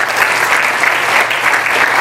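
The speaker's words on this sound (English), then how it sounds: "Give a big round of applause to them." An audience at a 32nd anniversary gathering in a tent applauds with dense, loud, continuous clapping that fills the whole moment without a break.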